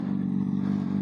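Old superbike engine revving, a close, loud, steady mechanical drone held for about a second.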